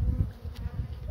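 Honeybees at an opened beehive during treatment, giving a dense, continuous close-up buzzing drone that stays loud throughout the short moment with no talk.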